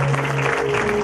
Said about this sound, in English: clap for Jesus, somebody.